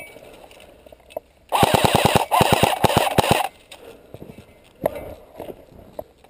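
Airsoft guns fire during an outdoor airsoft game in a rapid string of sharp, snapping shots lasting about two seconds. Scattered single pops follow it, and there is no talk during the bursts.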